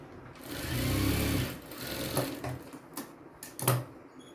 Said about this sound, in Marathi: अशी सरळ टिक मारून घ्यायची आहे